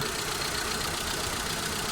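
A Mitsubishi Lancer engine idles roughly with one spark plug wire pulled, giving a steady, close mid-range engine drone with an uneven, misfiring texture throughout and no talk.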